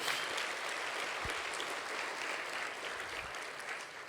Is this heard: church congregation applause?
yes